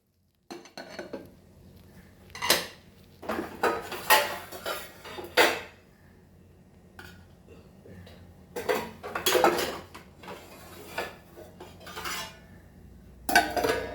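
Metal clatter and clinks of a pot and lid as Goan potato bhaji is covered for cooking, with several sharp bursts of cookware contact spread across a quiet kitchen background.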